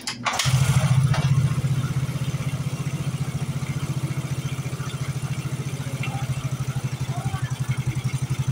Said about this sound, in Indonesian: Oke, untuk motor sudah hidup ya di sini.